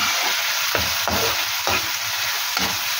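Mutton heart frying with ground garam masala in a pan, a loud, dense, steady sizzle broken by a few distinct stirring scrapes.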